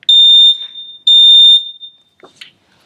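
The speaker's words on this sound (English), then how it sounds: "as soon as I press it, we get the alarm." Shrill electronic alarm triggered by a switch, two sustained high-pitched beeps of about half a second each, loud and close, followed by brief faint clicks and handling noise.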